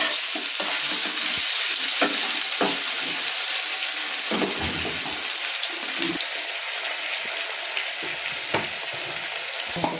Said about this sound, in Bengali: এবার আলুগুলো আর পেঁয়াজগুলো ভালো করে নাড়িয়ে চাড়িয়ে নেবো